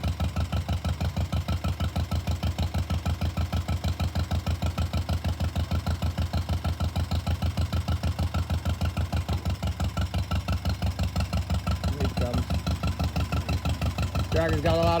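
An old tractor, owned by the family for about 50 years, chugs steadily at close range as it is driven up onto a trailer, its rhythmic low engine knock continuous throughout, with brief voices near the end.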